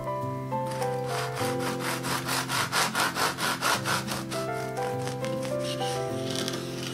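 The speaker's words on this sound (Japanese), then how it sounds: "実際に中はどうなっているのか切って確かめてみましょうか。" A knife sawing through a crusty, flat-baked French red bean bun, a rhythmic rasping of strokes that grows louder in the middle, over a steady background of soft musical tones.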